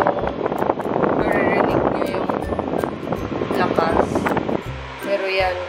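Air purifier fan blowing a strong, steady rush of air right after being plugged in, loud and close, with someone talking over the whoosh.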